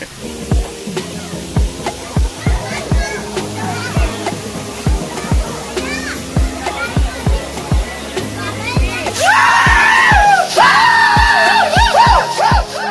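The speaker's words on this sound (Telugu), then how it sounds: "దట్స్ ద జలపాతం వి ఆర్ సెర్చింగ్ ఫర్" Rushing water of Katika waterfall near Araku valley, with a loud, steady roar that swells near the end, heard under repeated thumping knocks and people talking and calling out.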